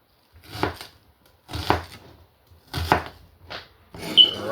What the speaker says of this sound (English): As you can see, I'm cutting up my onion.